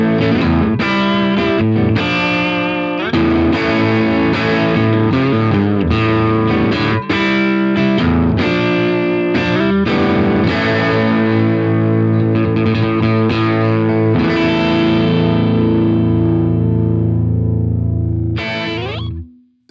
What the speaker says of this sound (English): This one has my favorite overdrive sound, and you can tell it has some of that tube and transformer compression baked in there